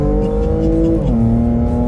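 A Porsche Macan GTS in Sport Plus mode accelerates hard, its engine note loud and steady with a quick, snappy upshift midway where the pitch drops and climbs again.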